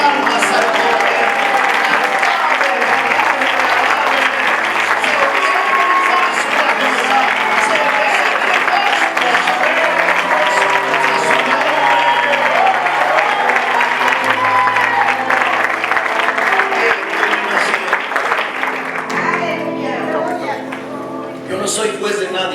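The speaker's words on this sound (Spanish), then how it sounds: "Solo dele palmas al Cordero." A church congregation claps in praise to the Lamb, a dense, loud and sustained wash of applause for about twenty seconds with voices mixed in, thinning near the end.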